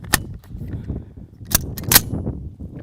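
A suppressed CMMG Banshee 9mm with a .45 can fires Winchester subsonic hollow points, three sharp cracks with irregular spacing over a low rumble of outdoor background.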